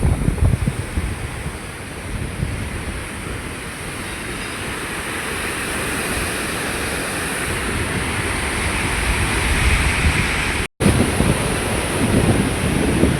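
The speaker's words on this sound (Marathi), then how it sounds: "जोरात पाणी" Water rushes forcefully through river-worn rock potholes near a temple, a loud, continuous broadband roar like heavy surf that stays steady, with a brief cut near the end.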